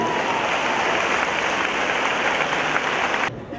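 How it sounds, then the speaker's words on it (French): A crowd applauds loudly and continuously for two former Miss Guadeloupe titleholders at a pageant event, a dense wash of clapping that cuts off abruptly near the end. "Je vous demanderai de les applaudir bien fort s'il vous plaît."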